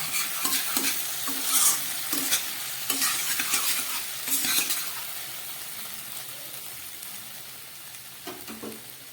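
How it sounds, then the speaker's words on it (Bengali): Vegetables fry in a pan after being uncovered, loud crackling sizzle with repeated stirring scrapes in the first half, then settling into a steadier, quieter fry with a couple of late stirs. "এবার আমি ঢাকাটা খুলে সবজিগুলোকে আবার ভাজবো।"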